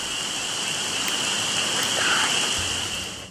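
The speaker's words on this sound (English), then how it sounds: "A soft rain falls" Soft rain falls in a steady hiss, close and even, with no voices.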